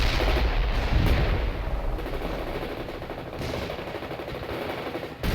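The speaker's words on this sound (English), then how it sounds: "Artillery strike requested on fire artillery." An artillery strike in the war video game World in Conflict, a continuous rumbling barrage of heavy booms and rapid gunfire with dense, layered impacts throughout.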